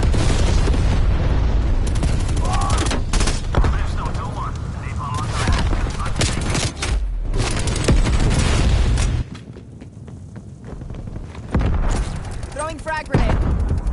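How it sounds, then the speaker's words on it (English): A napalm strike in a video game sets off heavy, sustained explosions and rumbling booms mixed with gunfire, loud and dense throughout, and a voice speaks at points. "Authorizing napalm strike"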